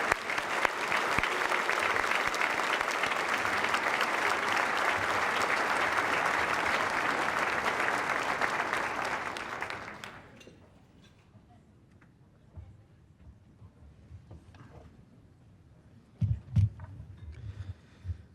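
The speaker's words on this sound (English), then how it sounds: "And let's give one final round of applause for everybody who was honored tonight." A final round of audience applause for honorees at a student excellence awards event, full and steady for about ten seconds before stopping abruptly, followed by quiet room noise and a few faint sounds.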